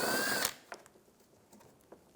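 Power drill spinning out bolts on a 2004-2009 Toyota Prius front panel, one short loud whir at the start, then faint clicks and taps of handling the bolts.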